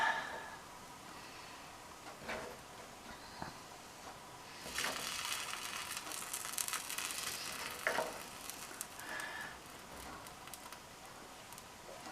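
Tomato pieces hit a hot pan with ham for an omelette, giving a soft sizzle and frying hiss that swells midway and stays fairly quiet, with occasional stirring clicks.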